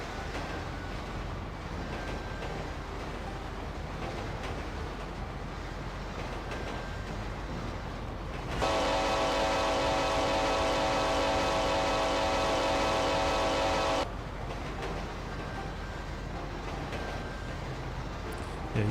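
A steady rumbling train runs continuously, with a brighter, harsher mechanical layer joining in midway for several seconds before dropping back.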